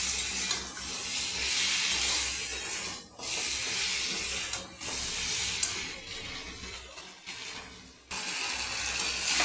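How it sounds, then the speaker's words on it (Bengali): Potatoes frying in a pan with chili powder and cumin powder, a steady loud hiss and sizzle with stirring scrapes, broken by a few short gaps. "দিয়ে ভালো করে আলুটাকে কষাবো।"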